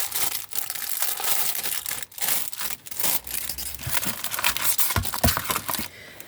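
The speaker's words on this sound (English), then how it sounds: "Sorry for the rustling here." Packaging from a craft haul of clear stamp sets crinkles and rustles close up, in irregular bursts of crackling plastic and paper with brief pauses between handlings.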